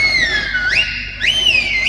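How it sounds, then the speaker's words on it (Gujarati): A pressure cooker whistles while khichdi cooks, two loud rising shrieks in close succession, nearby, with no talking. "કુકરની સીટી સંભળાઈ"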